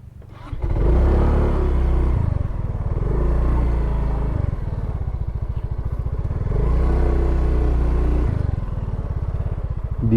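A motorcycle engine runs close by on a rural road under construction in Lopez, Quezon, its loud, steady rumble rising and falling in two long swells with a clattering, revving drone throughout.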